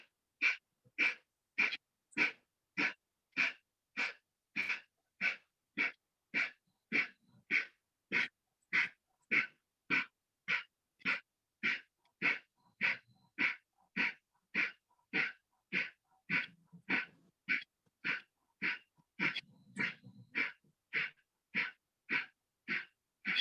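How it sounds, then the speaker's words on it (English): Kapalbhati yoga breathing, forceful sharp exhalations through the nose, repeats in a steady rhythm of about two per second for the whole stretch, close and alone. "do Kapalbhati for 40 times"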